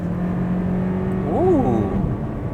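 In sport mode, the 1.6-litre turbo engine of a 2021 Hyundai Kona rises in a brief rev and falls back again, heard from inside the car over a steady cabin drone.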